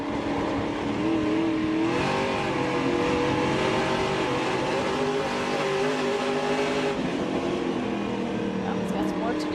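Race cars accelerate around Knoxville Raceway, a continuous loud engine roar with rising and falling revs as cars pass, heard under race commentary.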